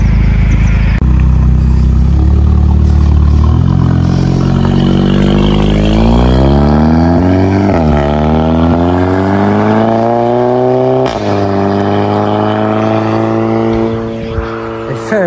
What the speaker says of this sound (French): Échappement ligne IP straight pipe là.